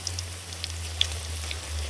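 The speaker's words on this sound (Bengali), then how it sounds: "চিড়েগুলো ভাজতে কিন্তু বেশি সময় যায় না" Flattened rice (chira) frying in hot oil, with a soft, steady sizzle and scattered tiny pops and crackles over a low background hum, no talking.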